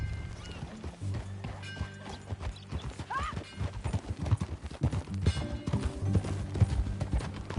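Rhythmic clip-clop of horse hooves trotting in Red Dead Redemption 2, steady and fairly close, with a brief whinny partway through and faint mechanical rattling in the background.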